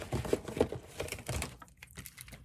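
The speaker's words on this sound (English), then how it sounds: "I just kind of cut the ends at a diagonal like that." A few crisp snips of small snips cutting ends at a diagonal, quick clicks close up with light handling noise between them, then quieter rustling.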